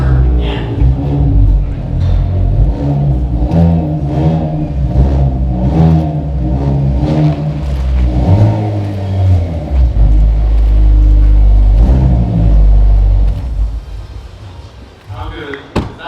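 A Hyundai Veloster N at an indoor auto show in Canada revs loudly in repeated rising and falling bursts close by, its rumbling engine note filling the hall before settling toward the end.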